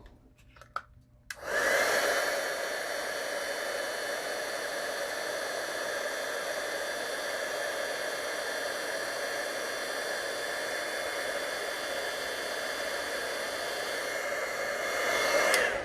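A heat embossing tool blows hot air to set ink and melt embossing powder, a steady loud fan-like roar that starts after a short quiet moment and runs unbroken for about fourteen seconds, close up with no talk.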